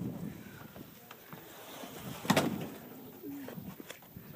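A pigeon-like bird caught in a fireplace coos softly, with faint rustling and a sharp knock partway through in a quiet room.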